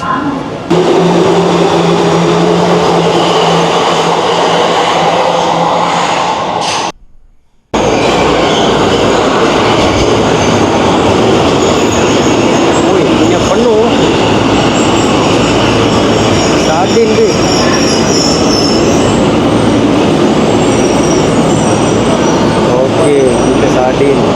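Train at a small station in Tokyo, Japan, a loud steady rumble of wheels and carriages with squealing and rattling that runs almost throughout, broken by a brief silent cut, with voices audible at times.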